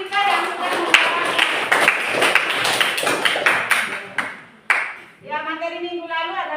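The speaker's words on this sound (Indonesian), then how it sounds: "tepuk tangan untuk teman kita yang sudah menjawab" A short burst of clapping from a small group, scattered and fairly close, fading out before a voice begins speaking.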